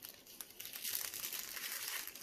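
Close, continuous crinkling and rustling of a plastic bag with a sealed bottom as it is cut open with scissors during resin coaster crafting, steady and fairly loud with no talking.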